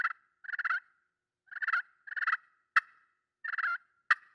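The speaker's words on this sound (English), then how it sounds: "I lengthen the striker even more, lay that call on my lifeline, and I just drag the striker" A turkey friction call plays in short raspy bursts of purring notes as the striker is dragged across the call, separated by pauses and punctuated by a couple of sharp clucks.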